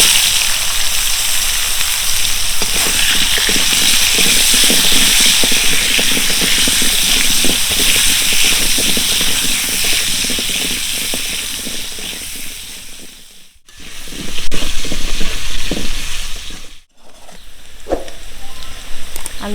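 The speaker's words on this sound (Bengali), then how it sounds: "পেঁয়াজ ভাজা তেলের ভিতরে আমি আলুটা ভেজে নেব।" Salted, chili-coated potatoes frying in oil left from frying onions, a dense rain-like crackle that runs steadily, then breaks twice near the end as pieces are stirred or lifted, close and fairly loud.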